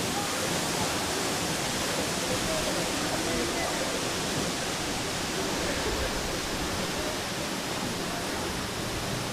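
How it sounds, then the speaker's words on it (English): A waterfall in Oregon rushes in a dense, constant roar of falling water, loud and unbroken throughout with no other sounds standing out. "I actually really enjoy the waterfalls here in Oregon."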